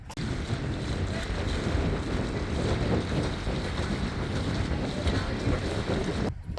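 Sailboat moving slowly through light wind, with continuous wind buffeting the microphone and a soft wash of water along the hull, steady and close throughout.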